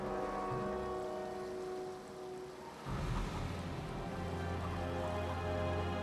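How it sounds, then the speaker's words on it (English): Rain and water ambience from the fantasy role-playing game Pathfinder: Wrath of the Righteous, a steady wash of falling rain and splashing water that swells after a brief dip, with a low rumble underneath and no talk. "Water effects are nice."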